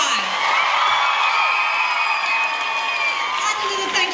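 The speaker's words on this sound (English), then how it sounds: "Big round of applause for everyone." Audience at a cosplay masquerade in Manchester claps and cheers steadily, a dense wash of applause with whoops and shouts sustained throughout.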